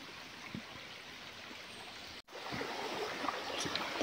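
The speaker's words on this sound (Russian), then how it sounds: "Вот таким образом приятно журчит река, не торопясь, не спеша," A river in the Svirskoe gorge near Lazarevskoe, Sochi, babbles gently over small stones, a continuous close wash of water with a brief dropout midway.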